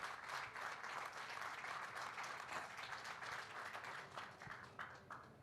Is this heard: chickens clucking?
no